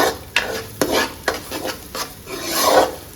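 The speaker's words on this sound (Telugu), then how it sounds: "ఇదంతా పచ్చి వాసన పోయేదాకా ఫ్రై చేయాలన్నమాట" Ingredients sizzle in a pan on a home stove while a spoon scrapes and stirs them in several short strokes, closing with a louder burst of frying.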